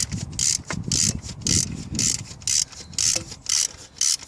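A socket wrench ratchets in quick, regular clicking strokes, about two per second, while an alternator is fitted on an Audi A6 C6 4F 2.0 TDI, close and crisp over faint background noise.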